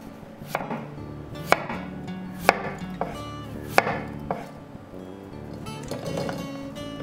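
A kitchen knife chops potatoes and red radish into thin finger-length sticks on a board, with about six crisp, close strikes at an uneven pace of roughly one a second, and no talking.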